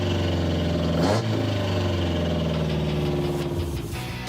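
A Chevy 350 V8 runs steadily after its carburetor is adjusted, a loud, close, even idle with a brief throttle blip near the start, alone without talk.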